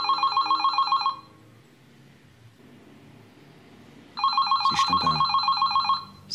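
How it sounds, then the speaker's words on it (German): An old-style telephone bell rings in two loud, clear bursts of about a second each, separated by a few seconds of quiet room tone, in a German crime drama scene. "Und dann klingelte das Telefon."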